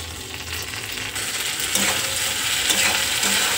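Chopped tomatoes go into a frying tadka, and the pan's steady sizzle swells as they land, with a few stirring clinks and scrapes up close; no one speaks.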